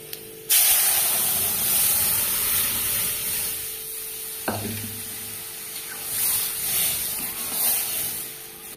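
A loud burst of spray-like sizzling as masoor dal hits hot oil with garlic tempering and turmeric, a steady frying hiss that continues with a brief clunk partway through.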